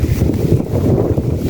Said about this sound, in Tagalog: ayan ang sarap ng hangin.